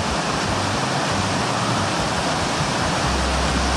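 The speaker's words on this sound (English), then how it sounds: "With the water running right alongside of it." Water rushing beside a hiking trail in the Grand Canyon, a loud, dense and continuous broadband roar like a nearby cascade, steady for the whole stretch with no voices.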